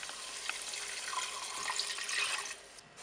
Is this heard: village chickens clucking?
no